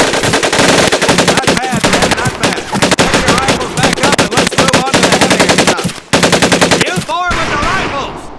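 Rapid automatic weapon fire from a Tommy gun in the World War II shooter Medal of Honor Pacific Assault, loud sustained bursts with brief pauses between them, close and dominant throughout.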